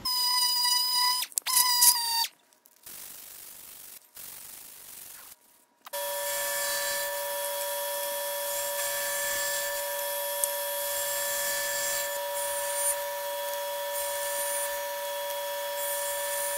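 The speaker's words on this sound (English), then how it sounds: "as I was running these pieces through the saw" Power saw cutting wood molding pieces for columns: short bursts of rubbing and whirring with pauses in between, then a sustained loud high whine of the running blade.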